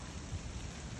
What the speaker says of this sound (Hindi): बारिश तेज आ रही